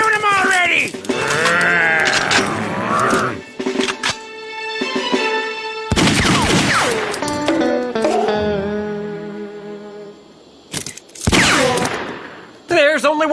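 Gunfire from the Lucky Luke animated Western cartoon: a few sharp, loud shot bursts break in between voices and music, and one cluster of shots comes near the end.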